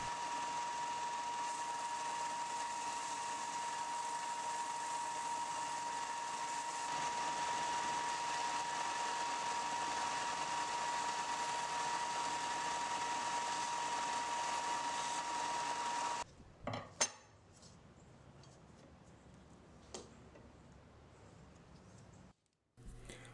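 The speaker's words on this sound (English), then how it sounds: "Now I'll remove as much of the decarb on my belt sander as possible before hand sanding the knife." A belt sander grinds decarb off a steel camping knife blade, a steady loud whirring drone with a constant tone for about sixteen seconds, then it stops and quieter scraping and handling noises follow.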